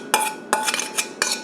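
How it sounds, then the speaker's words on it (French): A utensil stirs dressing into shredded cabbage and carrots in a bowl for a quick coleslaw, giving four sharp clinks and scrapes against the dish, close by and spaced irregularly with short quiet gaps between. "On va venir mélanger ça avec notre mixture de choux et de carottes."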